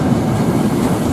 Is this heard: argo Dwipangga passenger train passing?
yes